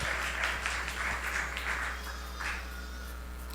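Audience applause at a singing competition audition fills the room with steady, moderately loud clapping that gradually thins out toward the end, with a low steady hum underneath.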